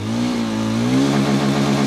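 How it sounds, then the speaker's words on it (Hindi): A 2026 Yezdi Adventure motorcycle revving up close, the exhaust note rising from a steady drone into a stronger, throatier roar that holds loud throughout. "तो कुछ ऐसा एग्जॉस्ट नोट रहने वाला है इस YZD एडवेंचर 2026 नई अपडेट का"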